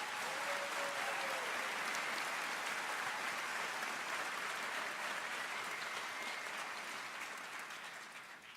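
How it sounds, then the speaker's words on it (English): Audience at a university convocation giving a sustained round of applause for a pipe and drum corps, an even, moderately distant wash of clapping that tapers slightly toward the end. "Please join me in another round of applause for these outstanding musicians"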